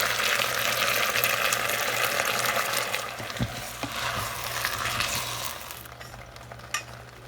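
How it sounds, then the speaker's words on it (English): Lo mai gai filling is stirred and fried in a pan, a continuous bright sizzle layered with scraping spatula strokes and a few soft knocks, with no talking. "Stir this well."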